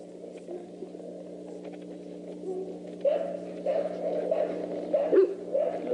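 A small hunting dog in a yard yips and whimpers in short close bursts that grow louder in the second half, over a low steady hum.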